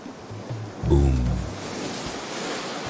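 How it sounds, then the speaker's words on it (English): Ocean waves crash and hiss on a beach at night, a steady broadband wash with one fuller surge that swells and then slowly fades, with no voices. "the crush and hiss of the water of the ocean behind him"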